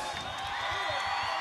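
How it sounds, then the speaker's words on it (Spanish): A festival audience at a music event in Caracas cheers and applauds for the second dance couple, a dense, steady wash of crowd noise with faint whoops throughout. "Aplauso para la pareja número dos."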